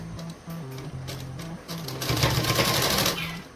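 A sewing machine stitches along one side of a salwar belt, running in short rhythmic bursts with brief pauses and then a longer, louder stretch of steady stitching, close up and with no talk.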